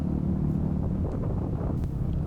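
Steady low road rumble of trucks passing on a road in southern Bali, a continuous engine drone with wind noise, no voices.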